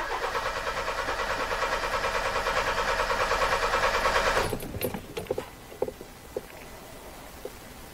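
A Kia Soul that loses power and stalls at stops cranks over with a steady, rapid rhythmic churning for about four and a half seconds without catching, then falls quiet apart from a few faint clicks; no one speaks.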